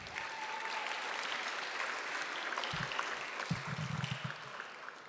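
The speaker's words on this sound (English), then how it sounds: "big round of applause once again" An audience at the closing ceremony of an international geography championship gives a sustained, dense round of applause, steady and fairly loud for about five seconds, with a few louder claps and thumps near the end.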